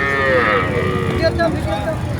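A single long moo from an Agar cow at Ambari cattle market in Dinajpur opens the moment, loud and close, then fades into a busy murmur of market crowd noise.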